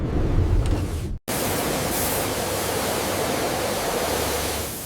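High-pressure water spray blasting a car on a factory rain-leak test line, a dense steady hiss with one brief cut-off before resuming, loud and continuous with no voices.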